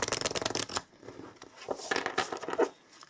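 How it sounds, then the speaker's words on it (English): Tarot cards shuffled by hand in a few quick riffling bursts, close and fairly soft, with short pauses between the flurries of papery flicking. "So let's just shuffle three times."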